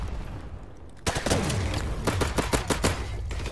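Gunfire in a video game starts abruptly after a quiet second, a rapid string of sharp shots with repeated bursts and echoing tails, moderately loud with no talk.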